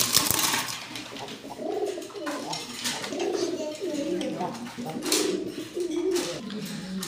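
A pair of almond-faced running pigeons coo in soft, repeated low warbling phrases close by, while someone talks over them throughout.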